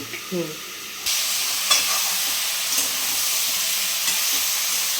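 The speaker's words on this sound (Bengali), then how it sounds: "এভাবে আপনাদেরকে একটু নাড়তে হবে, মাঝে মাঝে ঢাকাটা সরিয়ে নেড়ে দিতে ভেজে হবে" Poppy seed curry with drumsticks, tomato and potato sizzles in a pan while being stirred, a constant close frying hiss with occasional scraping clinks from the spoon after a brief quieter start.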